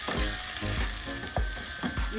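Onions and tomatoes fry in oil for stuffed eggplant, a loud, close sizzle broken by several quick spatula scrapes and stirs in a short burst.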